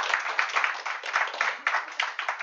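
Applause for a lead author at a machine learning discussion group, a short burst of steady clapping from a small audience, fairly close and even in rhythm.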